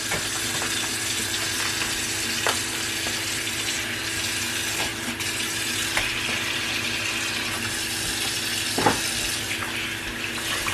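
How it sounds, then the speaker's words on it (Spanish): Running water from a kitchen faucet splashes steadily over menudo tripe being washed in a sink, a continuous hissing gush with occasional clunks and sloshes as the pieces are handled. "Que lo voy a lavar con suficiente agua."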